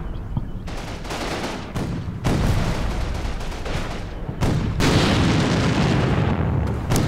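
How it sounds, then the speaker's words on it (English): In the Combat Mission: Battle for Normandy video game, a destroyed tank cooks off its ammunition with loud repeated bursts and booms, crackling continuously as separate blasts punch through a dense battle din. "The tank behind us that we killed recently just finished cooking off its ammo. That's the explosion there."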